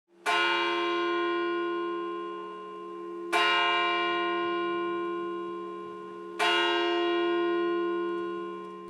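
Electronic church bells at St. Charles toll three times, evenly spaced about three seconds apart, each strike loud and close with a long ringing decay that overlaps the next, with no other sound.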